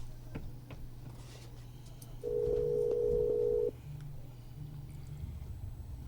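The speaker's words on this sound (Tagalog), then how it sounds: "Akong tawagan si Mirasol." A steady telephone ringback tone sounds for about a second and a half while a call is placed, mid-level over a low background hum, with no talking.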